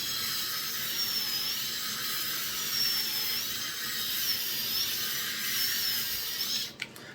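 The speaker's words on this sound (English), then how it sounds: "listen to the sound of this thing when you put it up against your head when your head's dry" A Clforczh 8780 electric head shaver runs pressed against a dry scalp, giving a steady, close, high-pitched buzzing whine with slight wavering in pitch and no talking.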